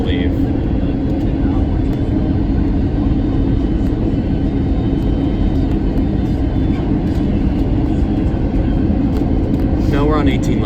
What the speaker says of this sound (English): we are on short final into the Cincinnati, Northern Kentucky International Airport on runway 18 center